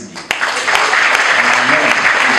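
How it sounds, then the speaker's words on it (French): Church congregation applauding after a wedding ceremony, a dense steady clatter of many hands that swells after a brief quieter start and carries on evenly, with a few voices mixed in. "on nous applaudit"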